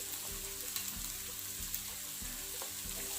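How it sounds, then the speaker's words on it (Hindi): Chicken and vegetables for chicken vegetable noodles fry in a pan with a steady, soft sizzle and occasional stirring scrapes and clinks, heard alone at moderate distance. "मज़ीद 2-3 मिनट के लिए और फ्राई करेंगे, चिकन अच्छी तरह गल जाए।"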